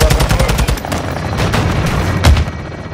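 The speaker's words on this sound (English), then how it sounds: "Weapons hot for gun run." Helicopter gun run in Call of Duty Modern Warfare 2, loud rattling machine gun bursts at the start giving way to continuous rumbling fire and booming impacts, dense and close.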